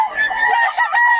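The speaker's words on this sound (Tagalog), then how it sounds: "Ang ganda ng mga manok ni boss, oh." A rooster crows loudly and close by at a gamefowl sale, one strained drawn-out call that rises and holds before breaking off.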